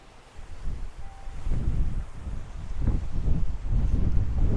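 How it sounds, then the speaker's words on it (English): Wind gusts rumble against the microphone in uneven surges, building in strength over several seconds with a broad, blustery whoosh. "it actually looks quite calm now, saying that, but it is windy"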